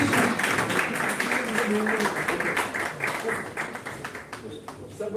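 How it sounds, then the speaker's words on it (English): An audience at a national oratory contest and group discussion event gives a round of applause, a dense, sustained patter of clapping that thins toward the end, with voices mixed in. "A big round of applause to carry forward the session."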